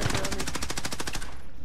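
Rapid automatic gunfire in the Warzone battle royale game, a steady burst of evenly spaced shots over about a second and a half, loud and close, with no voices over it.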